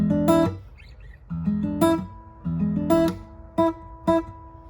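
Plucked guitar notes of the intro to Youngohm's "มาเฟียสเปน" ring out in short phrases, each chord struck then left to decay, with brief pauses between groups; clear and close, no talking.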